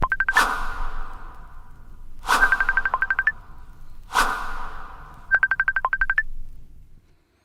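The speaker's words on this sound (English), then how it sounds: "Now, wait, something's ringing." A cell phone goes off in Carnegie Hall, its electronic ringtone repeating in four separate bursts, each opening with a soft swoosh and ending in a fast warbling trill, clear and fairly close with no talking.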